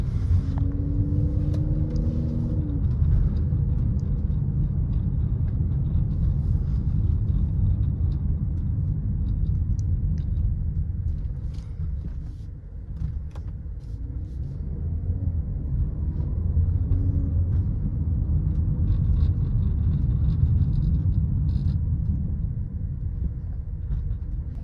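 Steady low road rumble and muted engine hum inside a Mercedes GLC43 cruising in comfort mode, continuous and fairly loud throughout with no talking.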